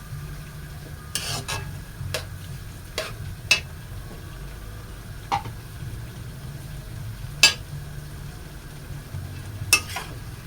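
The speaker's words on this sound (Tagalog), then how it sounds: "Haluin natin." Sautéed chayote and sotanghon vermicelli being stirred in a pan, with close scraping strokes at irregular intervals over a low, steady sizzle.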